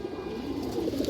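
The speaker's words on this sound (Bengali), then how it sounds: "এই দেখেন এটা খরা গলা একটা মাদি কবুতর" A female Khoragola pigeon coos softly and continuously at close range, a low steady murmur with no voices over it.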